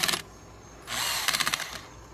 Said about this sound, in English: it powers this drill.